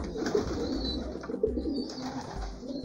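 Pigeons coo in a loft in the afternoon, two soft, low coos rising over a continuous murmur of birds and faint rustling, with no talk.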